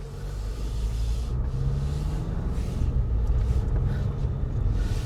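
A 2026 Jeep Grand Cherokee with the Hurricane 2.0L engine accelerates on the road, heard from inside as a steady, loud low engine rumble and road noise that swells slightly as it pulls, with no talking.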